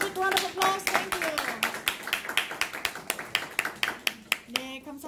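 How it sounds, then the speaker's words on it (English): Hands clap in a loose, steady rhythm of sharp smacks, a small group applauding close by while a voice speaks briefly over them. "Let's give another big round of applause."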